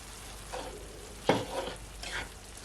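Seasoning stirred into browned ground beef in a frying pan for tacos, a few scraping strokes of a utensil over a low, steady sizzle, close up with no voices.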